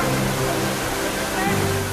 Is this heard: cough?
no